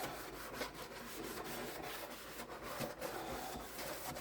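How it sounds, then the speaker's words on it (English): A sink being scrubbed with a cleaning product makes a close, continuous rough rubbing with a quick back-and-forth rhythm and no talk. "I try to be quick when I'm scrubbing my sink"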